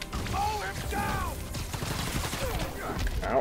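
Rapid bursts of gunfire from Spider-Man: Miles Morales fill the scene, a dense, busy clatter running the whole time and mixed with game voices and effects.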